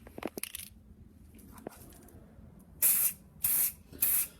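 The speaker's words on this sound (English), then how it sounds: "Now time to try spraying up the other sides." Vinyl dye is sprayed onto an item in three short, close hissing bursts of aerosol near the end, each about half a second long, after a few faint handling knocks.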